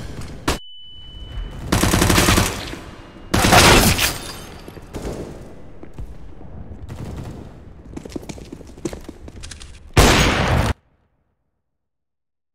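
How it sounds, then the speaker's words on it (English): A flashbang grenade thrown in Counter-Strike: Global Offensive, heard as several loud, harsh bursts spread over the stretch, mixed with rattling gunfire and softer game noise in between. A final blast cuts off abruptly into silence. "Throwing flashbang."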